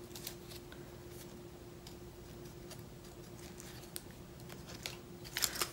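Plastic packaging bags are torn and crinkled open in a few sharp, quiet rips and crackles, close by with no talk, the loudest burst near the end.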